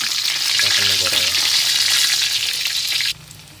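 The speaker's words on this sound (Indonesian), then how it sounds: "Sambil menunggu, kita akan menggoreng tempe." Tempe frying in hot oil gives a loud, dense sizzle with crackling bursts and a stirring scrape. It runs steadily for about three seconds, then drops off sharply to quiet.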